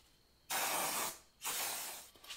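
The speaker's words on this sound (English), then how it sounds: "using some brake cleaner, make sure you clean your disc and your brake caliper real well" Brake cleaner sprays from an aerosol can onto the front brake disc and caliper of a Honda Africa Twin motorcycle in two close, loud hissing bursts, the first about half a second long and the second shorter, separated by a brief pause.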